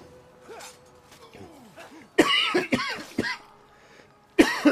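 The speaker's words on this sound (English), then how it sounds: "And he's coughing again." Several harsh coughs from a character in the game Rome 2: Total War, in short bursts, close by, separated by quieter moments with faint voices in the background.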